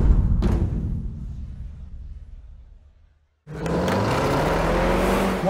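A 2018 Range Rover Sport plug-in hybrid climbing the Dragon Challenge road, a steady engine and road roar fading to near silence, then an abrupt loud surge of driving noise that holds strong to the end.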